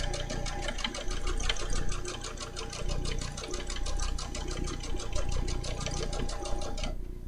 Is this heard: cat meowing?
no